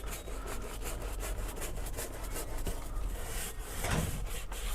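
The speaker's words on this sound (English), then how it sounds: "I can use this brush also to agitate" Steady back-and-forth brush scrubbing on leather with a rhythmic rasping texture, close and continuous throughout.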